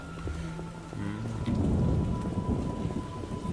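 Heavy rain pours down in The Witcher game while a deep thunder rumble swells and fades beneath it, a dense steady hiss close around the listener with no one speaking.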